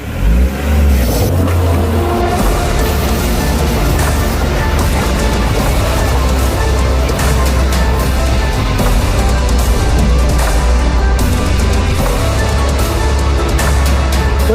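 A Tata Punch petrol two-wheel-drive car crawls up a boulder-strewn off-road track, its engine droning loud and close with a steady, labouring revving and uneven surges throughout.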